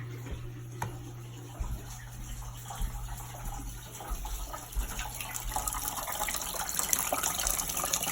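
Water runs steadily from a faucet into a sink during a plumbing startup, the water coming out sedimenty at first; a continuous close, moderate gush with a low hum beneath, growing slightly louder toward the end.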